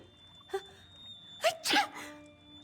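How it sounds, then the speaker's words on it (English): Two or three short, sharp sneeze-like bursts separated by quiet, the last one louder and doubled, with no speech, from the video game The Elder Scrolls Online. "Flowers make me sneeze, especially daisies."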